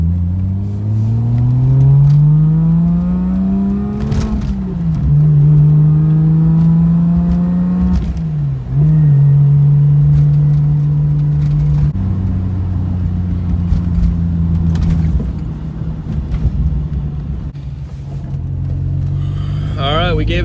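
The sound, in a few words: car driving to warm up the engine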